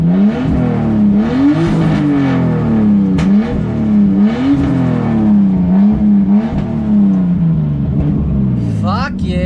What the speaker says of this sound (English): I just realized I haven't been able to give this car a good rev for you guys on camera